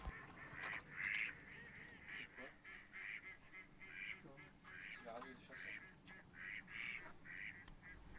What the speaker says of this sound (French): on profite des canards qui sont sur l'eau